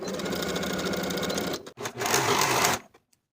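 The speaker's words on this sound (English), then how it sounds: "Sew the sleeve seam with a 3/8 inch seam allowance, finish the raw edges together and press toward the back." A sewing machine stitches a shirt sleeve seam in a steady, fast whirring run, briefly pauses, then resumes before stopping.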